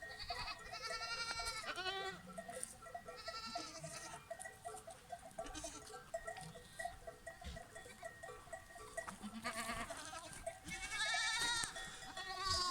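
Goats and young kids bleat continuously on a farm in spring, many overlapping calls near and far, steady and fairly loud with no talk.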